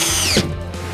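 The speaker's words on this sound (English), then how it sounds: "now we, of course, use the coarse thread screws to fasten the board." A power drill drives coarse-thread screws into plasterboard on a wall frame, a close, loud whirring spin that winds down partway through and keeps running at a lower, steadier hum.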